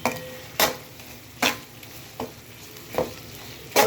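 Fish pieces frying with garlic paste in a pan, a steady low sizzle broken by four or five sharp clanks of a spatula against the pan at uneven intervals, close up and with no talking.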